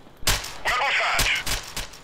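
Gunfire in the game Freeman: Guerrilla Warfare, a quick cluster of loud close shots and a rattling burst within two seconds, with voices shouting over the firing.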